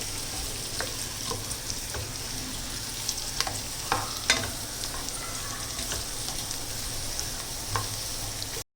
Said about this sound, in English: And now our sliced big onion along with few curry leaves and the slit green chilies. Now we will saute.